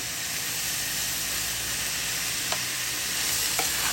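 Sautéed chayote with balut broth in a pan, giving a loud, continuous hissing sizzle with a couple of faint utensil taps from stirring, close and steady, no voices.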